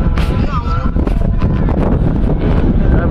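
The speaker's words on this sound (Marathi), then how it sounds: "भारी वारा लागतोय थंडगार" Strong, cold wind at a temple compound, blowing hard and buffeting the microphone in a loud, continuous roar, with faint voices beneath.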